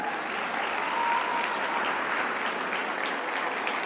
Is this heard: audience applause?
yes